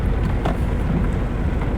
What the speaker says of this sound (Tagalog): umuulan na ngayon